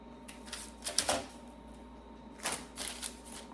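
Stems of supermarket flowers snipped for a lei, giving a few short crisp clipping and rustling sounds in two clusters, close and fairly quiet, with no talking.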